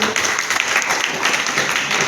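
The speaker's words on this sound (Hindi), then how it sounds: "ताली बजाओ सब लोग इसके लिए" Students in a polytechnic college classroom clap together, a brief burst of loud, close applause from many hands lasting a couple of seconds.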